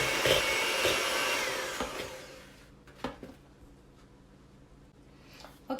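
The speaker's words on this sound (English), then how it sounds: "then you have to cream the eggs, the sugar, and the butter" An electric mixer creams eggs, sugar and butter for a banana nut cake, giving a loud, steady whirring drone that fades out after a few seconds into near quiet with a few faint clicks.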